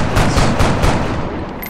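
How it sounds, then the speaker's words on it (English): A recruit's shot in the XCOM video game: a short burst of loud, close gunfire with several rapid booming reports that decay into a rumbling tail, no talking. "Shot failed to connect."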